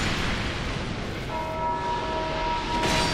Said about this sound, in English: Who's ringing the bells?